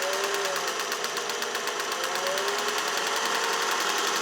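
A vintage all-metal Singer 401A sewing machine stitches steadily at speed, its motor humming with a fast, even mechanical chatter that runs continuously and fairly loud throughout, with no voices.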